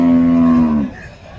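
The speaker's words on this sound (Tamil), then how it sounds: "இந்த சைடு ஃபுல்லாகவே நாட்டு காளைங்க தான் இருக்குங்க." Native bulls at a busy cattle market in Krishnagiri district give one loud, close, sustained moo that fades out after about a second, leaving a quiet murmur of the market behind.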